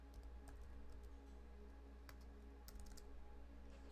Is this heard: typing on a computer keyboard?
yes